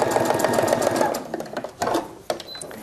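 A sewing machine runs fast and steady, stitching fabric along a chalk line with a close, continuous rapid whir that eases and stutters briefly toward the end.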